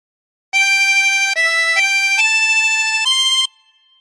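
A 24-hole tremolo harmonica plays a short phrase of Jesus Loves Me, several sustained wavering notes changing pitch in steady succession, loud and close, alone with no voice.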